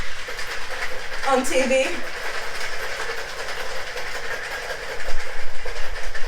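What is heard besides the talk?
shaking a cocktail shaker with rosemary fig sour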